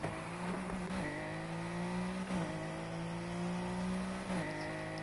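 A car engine in the video game Need For Speed Heat revs hard through several gear changes, each upshift dropping the pitch before it climbs again, steady and fairly faint.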